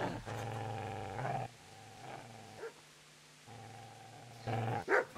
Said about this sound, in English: На кого там собака напала?